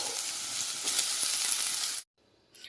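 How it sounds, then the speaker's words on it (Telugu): Potato pieces hit hot oil with chillies in a pan for aloo rice, a loud bright sizzle for two seconds that cuts off abruptly, leaving a faint quieter crackle. "పొటాటో ముక్కల్ని వేసేసుకోవాలండి"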